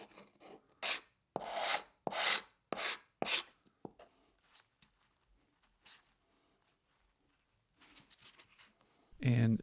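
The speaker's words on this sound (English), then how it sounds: "it's the same thing, mineral spirits and some scraping and some scrubbing, just to try to get as much of all of that old residue off as I can" Scraping and scrubbing old residue off a wooden box with mineral spirits, a series of close, rasping strokes in uneven bursts, quieter scratches in between, and a voice at the very end.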